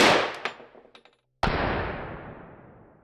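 A single powerful .338 Lapua Magnum rifle shot cracks out after a brief silence, suppressed, fired into a Dragon Skin armor plate, its loud boom rolling and decaying over the next second and a half.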